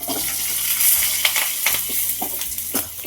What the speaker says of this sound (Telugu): అలాగే పచ్చిమిర్చి వేసేసుకుందాం తాలింపులో